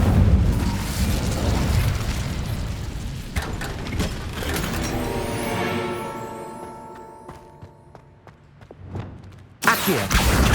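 Incendio fire spell in Hogwarts Legacy, a loud roaring burst with crackling and rumbling that fades over several seconds, followed by scattered clicks and a sharp pop near the end.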